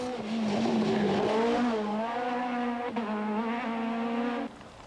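A rally car at the 1999 Sanremo Rally is driven hard on a special stage, its engine note revving steadily and rising and falling through gears, loud and fairly close, then cutting off abruptly near the end.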